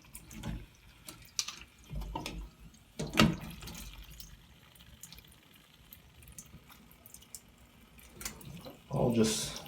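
Water released from a Kohler GP87 shower valve cartridge during a repair, short gushes and drips with clanks of handling, a louder rush near the end, close by and otherwise quiet.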